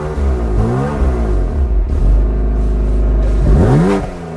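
A BMW fitted with a titanium exhaust revs loud and close, its engine rising and falling through several throttle blips over a deep, rumbling idle.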